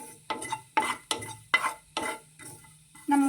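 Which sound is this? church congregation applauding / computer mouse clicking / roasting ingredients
roasting ingredients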